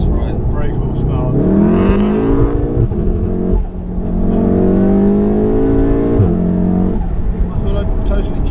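A tuned 600 bhp VW Golf R engine revs hard and loud in rising sweeps, its pitch climbing, dipping briefly and then climbing again, with talk heard over it.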